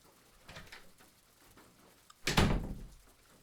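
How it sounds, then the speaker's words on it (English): A door shuts with a single loud, close thud after a couple of seconds of soft shuffling footsteps in a quiet room. "Make sure to close the door behind you."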